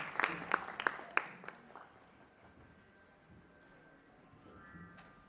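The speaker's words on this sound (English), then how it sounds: "So I would like a round of applause" A handful of scattered claps ring out at the start of an education conference session, quick and irregular, then fade away into a quiet room with a faint tone.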